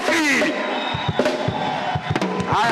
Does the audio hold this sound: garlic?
no